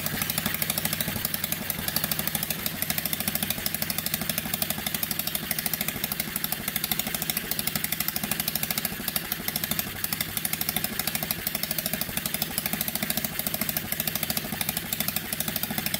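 A small engine on a cheap mini UTV that sat for years idles steadily, a constant rapid mechanical chugging and clatter held at an even level throughout with no talk.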